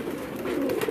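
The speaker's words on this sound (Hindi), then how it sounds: "बहुत ही ज़बरदस्त कबूतर।" A fancy pigeon on a Karachi rooftop gives a short, close, low cooing call, heard alone.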